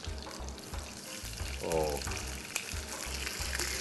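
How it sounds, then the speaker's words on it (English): Water poured into a hot pan of browned butter and lemon juice sizzles and spatters loudly in a kitchen, crackling bursts under a brief spoken exclamation. "So when the juice is beautifully brown, golden, you add the water."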